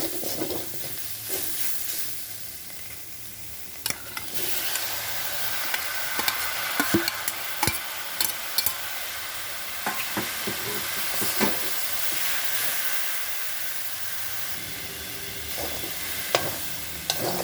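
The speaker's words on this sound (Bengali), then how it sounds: "এখন দিয়ে দেবো কচুর লতিটা মাঝে মধ্যে আমি নেড়ে নেড়ে দিয়েছি" Taro stolons cooking with dried fish in a pan, a steady hiss of frying broken by repeated sharp spatula taps and scrapes as the mixture is stirred.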